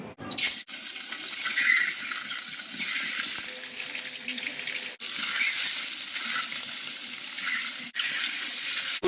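An egg fries in oil in a pan, a continuous hissing sizzle that holds steady and close, broken by a few brief pauses, with no talk.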